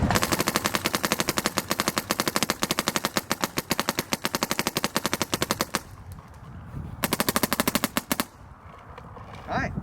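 A MacDev Prime XTS paintball marker fires semi-auto in a fast, steady string of sharp pops, close and loud, pauses briefly, then fires another quick burst.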